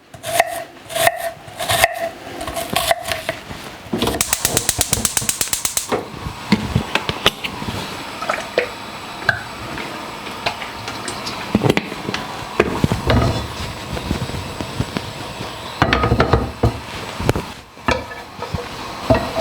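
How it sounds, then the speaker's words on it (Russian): A kitchen knife slices mushrooms into thin pieces and cuts onion into half rings on a board, giving irregular chopping knocks and a brief run of rapid cuts, close up with no talking. "Лук нарежем полукольцами."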